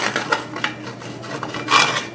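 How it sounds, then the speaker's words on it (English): A spatula scrapes across the bottom of a pan while gravy is mixed for pork tenderloins, giving a series of short raspy strokes, close and fairly loud, with no voices. "I like to scrape the bottom."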